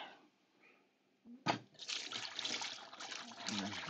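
Homemade bone broth poured out of an Instant Pot through a colander: a quiet lead-in, a knock, then a steady rushing splash of liquid that keeps going close by.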